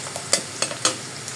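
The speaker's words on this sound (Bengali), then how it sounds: "এই যে পেঁয়াজটা ভাজা হচ্ছে" Onion frying in a pan for beef korma, a soft steady sizzle with a few sharp scraping stirs standing out, close and without speech.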